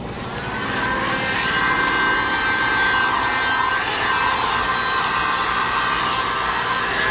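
A heat gun blows a steady, loud hot-air roar while vinyl wrap is shrunk into position on a car, a continuous broadband hiss with faint rubbing and scraping underneath and no talking.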